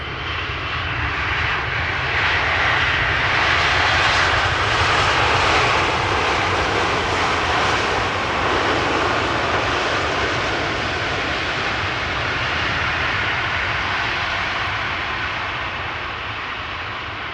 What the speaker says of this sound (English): Not really sure if they did apply the reversers there or if it was just an idle reverse landing.